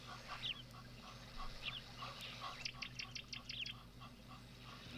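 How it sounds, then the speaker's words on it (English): Small Camaroptera bird calling in the background, brief faint chirps repeated in quick clusters over a steady low hum. "You can hear that Cameroptera in the background."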